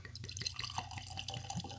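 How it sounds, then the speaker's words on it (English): Greenall's gin poured into a glass, a soft steady trickle of liquid with light drips, close and quiet, with no talking. "Let's go ahead and get that first pour."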